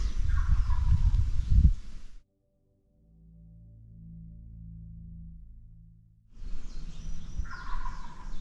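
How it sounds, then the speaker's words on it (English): Wild turkey gobbler in late-season Alabama woods answering calls, one gobble burst at the start and another at the end, with a quiet stretch of low hum between them. "I want him to gobble three times."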